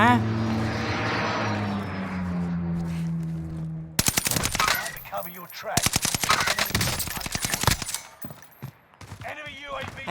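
A machine gun in Call of Duty Warzone fires in fast, sharp bursts after an opening stretch of engine-like drone, the rounds close and loud with brief gaps, someone talking over the action.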